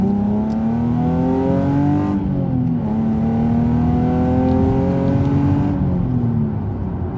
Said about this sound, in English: Just listen to that V6 thing.